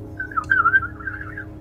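A person whistles a short, wavering birdlike trill imitating birds up in a tree, close and clear over a quiet background, with no speech.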